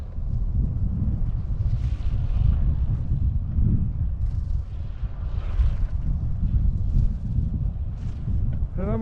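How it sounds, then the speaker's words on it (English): Wind buffets a microphone during a motorcycle ride through residential side streets in Morris, Illinois, a loud continuous low roar that surges and dips throughout, with no voice over it. "talking into the wind is not nice"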